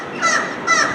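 Seagulls nesting on the windows and ledges of a large old hotel building in Scarborough give two loud, nasal calls about half a second apart, close by and with no voices.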